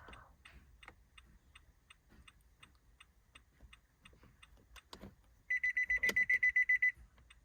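A series of short electronic beeps from a 2013 Nissan Altima smart push-start key fob sounds in quick succession, loud and close, following a faint steady ticking in a quiet room.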